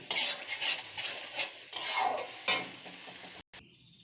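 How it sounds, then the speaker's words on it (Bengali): Banana stem being stirred with turmeric, salt and sugar in a pan, a spoon scraping and clinking in repeated close strokes with faint sizzling, then a quieter tail. "দিয়ে ভালো করে নাড়াচাড়া করব।"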